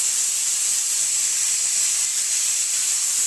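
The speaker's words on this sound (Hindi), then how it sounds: "तो अभी दाल में बस ज़ीरा और राई का ही तड़का देंगे हम।" Cumin and mustard seeds tempering for dal, a steady, loud sizzling hiss of spitting oil that holds evenly and without break from start to end, with no talking.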